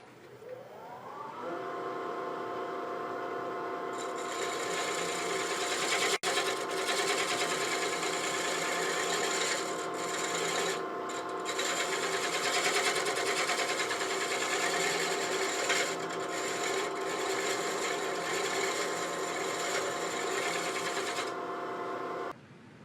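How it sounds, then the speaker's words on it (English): A shear scraper works a spinning cherry burl bowl on a lathe: a loud, steady motor whine with a sustained scraping tone that runs for about twenty seconds before stopping. "let's try that with my shear scraper and see if I can"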